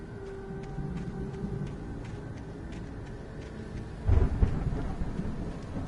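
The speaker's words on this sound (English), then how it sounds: "The storm raged on." A thunderstorm rolls through the video game Alan Wake Remastered, with a steady wash of rain under a low rumble and a sharper, louder crack of thunder near the end.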